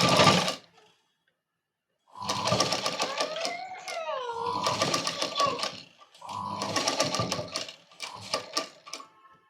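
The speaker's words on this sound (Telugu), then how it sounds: "దీని మీద మనం ఇంకొక ఎక్స్ట్రా స్టిచ్ అనేది కూడా వేసుకుందాం" A domestic sewing machine stitches a princess-cut blouse, running in bursts of steady rapid needle clatter with pauses between, close and fairly loud, with a brief whining tone partway through.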